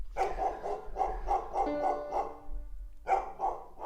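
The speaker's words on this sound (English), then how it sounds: "Dog's still going crazy." A dog barking in a steady run of close, loud barks with short gaps, pausing briefly before a final few barks, with no talk over it.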